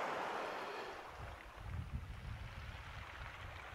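Wind blows steadily across a beach shoreline during shore fishing, a constant rushing roar with gusty swells buffeting the microphone, and no voices.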